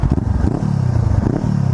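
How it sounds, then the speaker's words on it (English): A 2017 Honda CBR500R with an R77 slip-on exhaust rumbles loudly and close while riding, its low throaty drone broken by rapid popping crackles on deceleration. "you get some beautiful crackles that you don't get with the stock exhaust"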